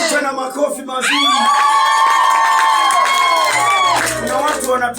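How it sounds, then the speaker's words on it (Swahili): A church congregation breaks into cheering and applause, voices rising into a sustained, loud ululating shout with scattered claps, a crowd sound that swells and then tapers off. "Yesu tena makofi mazuri."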